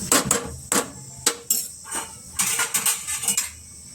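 Metal clanks and clatters from a cooking pot and its lid in a home kitchen while pumpkin palya cooks, a series of sharp close knocks in irregular bursts over about four seconds.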